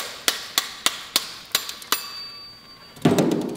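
A hammer knocks a ferrule off after pin brazing on a high-capacity lithium battery brazing unit, giving about six sharp, evenly spaced metallic taps, followed by a short burst of hissing noise.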